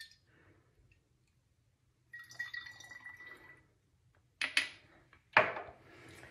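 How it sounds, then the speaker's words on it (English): Apple cider vinegar poured into an empty 8-ounce glass bottle: a quiet trickle of liquid, then two sharper splashing bursts near the end, with near silence between them. "So got an empty 8 ounce glass bottle here. We're just going to pour that in here."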